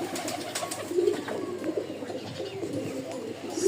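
Pigeons coo on a farm, a few soft, low, repeated coos close by over a steady background murmur.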